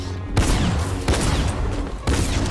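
Rapid bursts of gunfire in the Fortnite video game, deflected by a Star Wars lightsaber, loud and dense, with a rattling volley, a brief lull, then another burst near the end.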